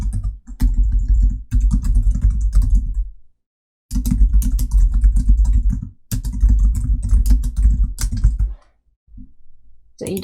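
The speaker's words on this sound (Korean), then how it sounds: "타이핑을 하겠습니다." Close, crisp keystrokes on a computer keyboard in rapid bursts of typing separated by short silent pauses, with a low hum underneath each burst.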